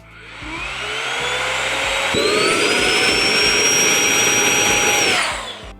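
Dnipro-M DVA 200BC cordless vacuum cleaner with a brushless motor, running loud and close as a high whine that rises in pitch partway through, holds steady, then winds down at the end.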